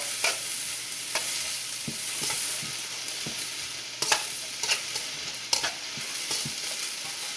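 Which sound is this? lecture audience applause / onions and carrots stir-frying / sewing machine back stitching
onions and carrots stir-frying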